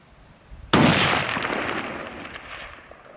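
A single loud rifle shot cracks sharply at a rock target 500 yards away on an Idaho elk hunt, its report rolling off and echoing for a couple of seconds before fading.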